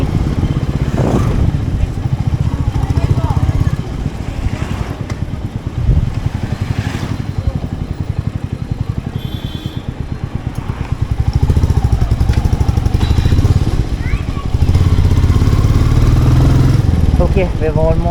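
A Royal Enfield Meteor motorcycle rides up an inclined city road in Bangalore and overtakes, its engine a loud steady thumping drone with wind rush that surges as it pulls ahead.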